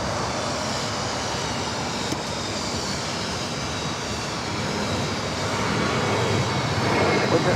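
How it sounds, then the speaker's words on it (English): A JetBlue Airbus A321 takes off at LAX, a continuous broad jet roar at a distance that swells slightly toward the end, with a voice faintly present underneath. "Next takeoff is JetBlue Airways flight 424 heading to JFK"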